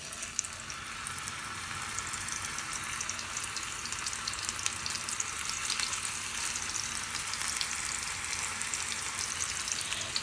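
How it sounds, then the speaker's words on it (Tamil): Marinated fish fries in a little oil on a flat dosa pan, giving a constant close crackling sizzle that runs evenly with no voices. "இப்போ நம்ம வந்து ஃப்ரை பண்ணிக்கலாம்."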